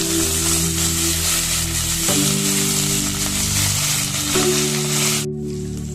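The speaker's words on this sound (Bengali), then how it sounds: "ফুলকপিটা ভাজা হয়ে গেছে" Cauliflower frying in hot oil in a home kitchen gives a loud, continuous sizzle over a low steady hum. The sizzle cuts off abruptly near the end.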